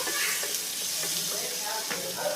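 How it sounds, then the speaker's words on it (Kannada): Onion, green chili and curry leaves sizzle steadily in hot oil for a tempering, a close, even frying hiss with faint stirring and no talk over it. "ಈಗ ಸೊಪ್ಪಿನ ಒಗ್ಗರಣೆಗೆ ಈರುಳ್ಳಿ, ಹಸಿಮೆಣಸಿಕಾಯಿ, ಕರಿಬೇವು ಇದೆಲ್ಲ ಸ್ವಲ್ಪ ಫ್ರೈ ಆದಮೇಲೆ"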